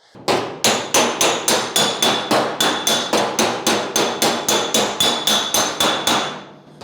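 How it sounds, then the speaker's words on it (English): A hammer glances repeatedly off a steel car body panel while shaping a custom gas filler opening on a 1940 Ford-inspired hardtop coupe, a close, loud run of about twenty sharp metallic taps in an even rapid rhythm. "I'm not whacking the panel, like I'm not smacking it down. I'm kind of glancing it off."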